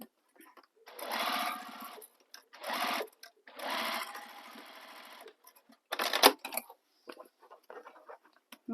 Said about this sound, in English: And then sew the other corner up to the top.